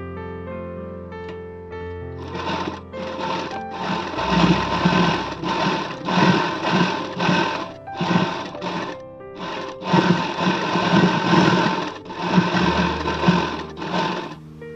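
A sewing machine stitches a princess cut blouse in repeated short bursts of rapid whirring, separated by brief pauses, loud and close with no voices.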